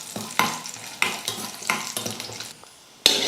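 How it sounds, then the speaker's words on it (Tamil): Cashews frying and being stirred in a pan, soft sizzling broken by repeated scraping strokes of a spoon roughly every half second, close and moderately quiet, ending with a sharper clink. "இப்போ முந்திரி போட்டு வறுத்துக்கலாம்"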